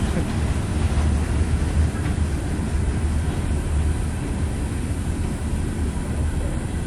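A long CSX freight train rolls past at Folkston with a steady, dense rumble and broadband rail noise, continuous and fairly loud throughout with no break.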